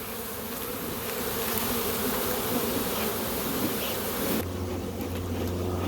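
A dense, steady buzzing of many honey bees in a garage during honey extraction, continuous and close, with a low hum taking over near the end.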